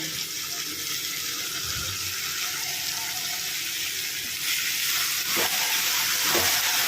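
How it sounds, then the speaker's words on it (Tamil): Chopped spring onions and tomatoes sauté in a pan for sambar, giving a steady close sizzle with occasional scraping stirs and no talk. "நல்லா வதக்கி விடுங்க."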